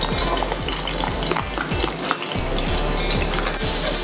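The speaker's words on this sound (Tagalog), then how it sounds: "Lagyan natin ng mantika at bawang at sibuyas." Garlic and onion sauté in hot cooking oil with a steady, loud frying sizzle, broken by repeated scraping stirs of a utensil against the pan, with no voices.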